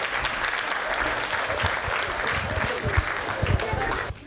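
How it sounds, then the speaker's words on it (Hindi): Loud, dense applause from an audience welcoming a poet onto the stage at a Hindi comedy poetry gathering, sustained for about four seconds before cutting off. "जोरदार तालियों से स्वागत करिए मधुर श्रीवास्तव नरकंकाल जी का।"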